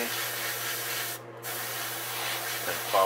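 Aerosol spray paint hisses onto a Pumpkinseed-pattern crankbait lure through a stencil offset over a white base coat: a steady, close, continuous spray with one brief pause partway through.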